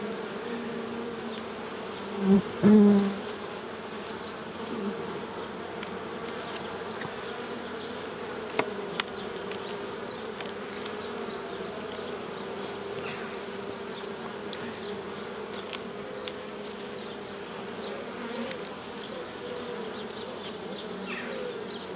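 Honeybees hum in a steady, continuous drone while a beehive is opened for inspection, with a couple of louder buzzing passes near the start and faint handling knocks.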